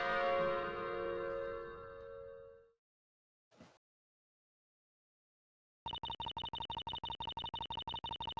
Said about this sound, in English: I rang the bell against my father's warning, and so Bazella possessed me